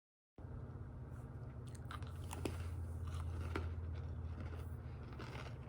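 Animal crackers crunched and chewed right at the mouth, a quiet but close series of crisp bites and grinding chews over a low steady background hum.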